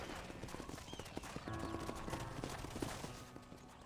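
Horse hooves clip-clop in a steady rhythm in Red Dead Redemption, close and clear over a quiet background for a few seconds.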